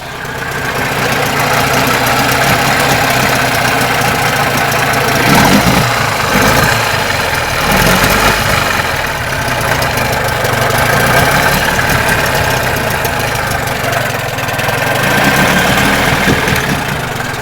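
A 15 hp Johnson outboard motor idles close by with a steady, loud, even running drone that holds through the whole stretch, with slight surges in the middle and no speech.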